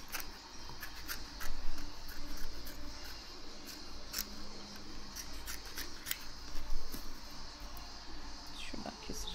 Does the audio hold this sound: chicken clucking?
no